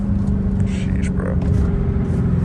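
Dodge Hellcat Redeye with 800 hp accelerating hard in second gear at night, a loud, steady low engine roar and road rumble filling the whole stretch, with a voice speaking faintly over it.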